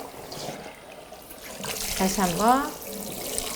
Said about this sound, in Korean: 샤워기가 들어가면서 이제 빠집니다